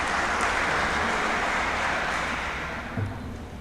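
An audience at the president's annual report applauds in a dense, steady wash of clapping that fades slightly toward the end.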